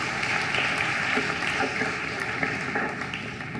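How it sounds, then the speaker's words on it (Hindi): Applause from an audience greets a speaker at the launch event of the PANKH campaign in Madhya Pradesh, a dense, steady clapping texture filling the whole stretch with no clear gaps. "तालियां बजा के स्वागत कीजिए"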